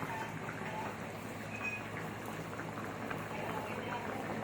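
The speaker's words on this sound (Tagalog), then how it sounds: "Kumukulo na oh." A steady bubbling and hissing of water at a rolling boil, continuous and close, with no pauses or voices.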